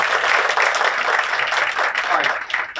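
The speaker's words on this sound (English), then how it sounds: "let's give one more round of applause for Estrella" A crowd gives another round of applause for Estrella, a December Student of the Month at a PUHSD school ceremony; steady, loud clapping fills the room throughout, with voices mixed in.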